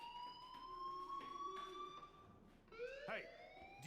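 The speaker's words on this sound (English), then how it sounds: "do you hear that fire alarm?" Fire alarm sounding inside a school in the Life is Strange video game, a steady electronic tone with rising and falling sweeps, moderately loud and continuous with no talking.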